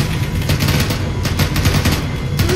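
Sustained gunfire in the Arma co-op mission Russian Goliaths, taken from the direction of a runway. It rolls as dense, continuous bursts over a low rumble and stays loud for the whole stretch with no talk.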